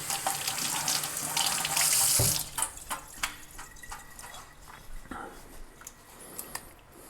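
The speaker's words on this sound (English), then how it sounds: "Give these a quick rinse." Tap water runs steadily into a sink as ingredients for chicken stock are rinsed, with a loud gush in the first two seconds that gives way to lighter splashing and intermittent drips and handling clatter.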